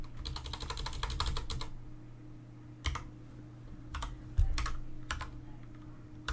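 Quick bursts of clicking keystrokes on a computer keyboard as a username is entered, a rapid run of taps at first, then sparse isolated presses with pauses, close and fairly quiet.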